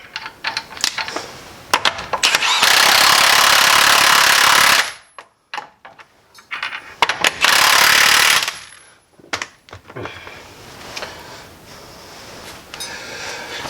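A Milwaukee M18 high torque 2767 impact wrench, used on car work around an axle nut, hammers loudly in two sustained bursts of about two seconds each, separated by quieter clicks and handling noise.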